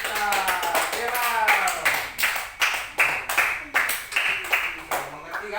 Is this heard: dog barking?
no